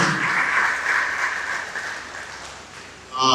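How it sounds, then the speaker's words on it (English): Applause welcoming a newly recruited center director, a steady wash of audience clapping that gradually thins, cut off by a brief different sound at the very end. "Please a round of applause for him."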